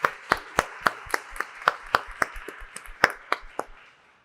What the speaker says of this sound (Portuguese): Salva de palmas, pessoal.